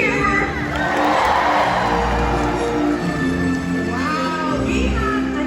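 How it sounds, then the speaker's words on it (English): A large crowd cheers and whoops for a killer whale at an orca show in a stadium, with children shouting. The roar is loud and sustained, with music and an announcer's voice running underneath. "So when you see him, please give him a great big cheer."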